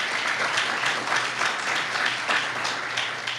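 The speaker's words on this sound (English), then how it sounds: "We should applaud" Audience applause at a county State of the County address, a steady, fairly loud wash of clapping sustained across the whole stretch without a break.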